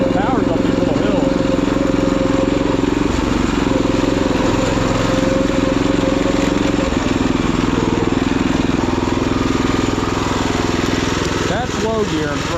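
Predator engine swapped into a Wheel Horse garden tractor, working in low first gear while climbing small wooded hills: a loud, steady close-up engine drone with a dip midway, running continuously throughout.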